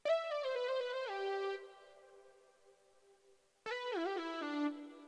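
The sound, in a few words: XV5080 MG lead synth pattern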